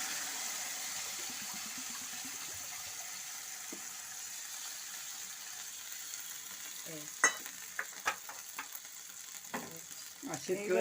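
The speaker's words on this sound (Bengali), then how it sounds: "এই যে মশলাটা করা আছে ধনে জিরে আর রাঁধুনি বাটা এটাকে একদম জল এই ঢেলে দিলাম" Water poured onto a paste of ground coriander, cumin and radhuni in a pan, a soft continuous sizzle and hiss that turns into a few sharper spluttering pops and splashes near the end.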